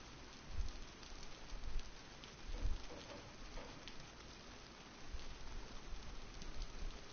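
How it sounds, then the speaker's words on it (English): Rain falling in a survival video game, a steady soft patter of drops on surfaces with a few dull low thumps, heard alone at moderate level with no talking. "it sounds like it's raining"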